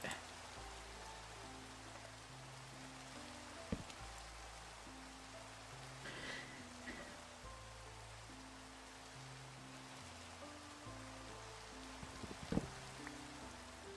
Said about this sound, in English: no more rain sounds